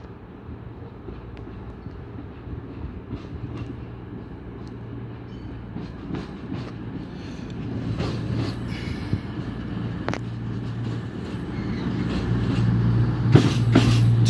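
A Class 220 Voyager train at Sheffield station, heard as a low, gradually building rumble of the diesel unit with rail and wheel noise, growing louder over about fourteen seconds with a brief squeal near the end.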